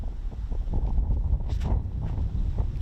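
Steady outdoor wind buffets the microphone on a disc golf course at a tournament round, a continuous low rumbling gust noise with no talking.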